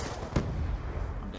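A grenade blast in Call of Duty Black Ops II, one sharp loud burst followed by a rumbling low tail amid steady game noise.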